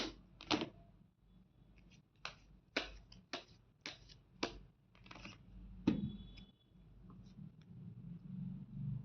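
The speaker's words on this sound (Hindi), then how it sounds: "एक बार और शफल कर लेते हैं।" Tarot cards are shuffled by hand in a quiet room, heard as a series of short, crisp slaps and riffles spaced irregularly, close but soft.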